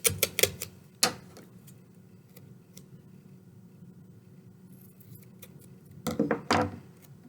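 Pink and white duct tape is pulled and pressed down while building a duct tape endless cube. Short crackly ripping bursts come at the start and again near the end, with a quiet stretch between them and no talking.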